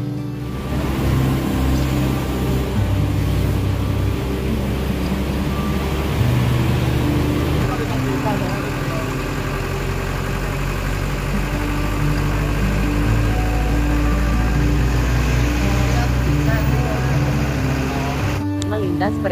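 A Putra Mataram intercity bus drives a mountain road between Temanggung and Wonosobo past trucks, its engine a steady loud low drone with road rumble throughout, while a voice talks over it.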